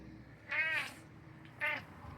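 A cat meows twice, two drawn-out, fairly loud cries separated by a short pause, over quiet background.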